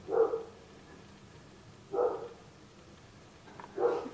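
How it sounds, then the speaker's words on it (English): A neighbour's dog barks three times in a slow, spaced rhythm, each bark moderately loud but somewhat distant, over a quiet indoor background with no talking. "it's not even my dog, it's like my neighbor's dog"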